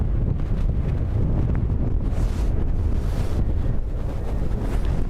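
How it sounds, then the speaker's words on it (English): Strong Storm Bram winds at Dublin Airport roar and buffet the microphone in constant heavy gusts, a loud, rumbling rush of wind with no voices. "Wind be crazy."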